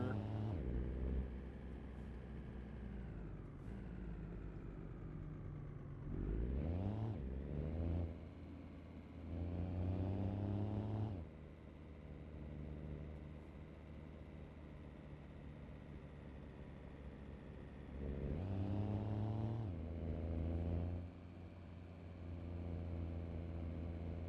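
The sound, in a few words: Volvo VNL truck engine with 815 hp 3406 in video game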